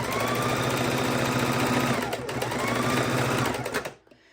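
A sewing machine stitches binding onto a Christmas quilt, running in a steady, close, continuous whir for about four seconds before stopping abruptly.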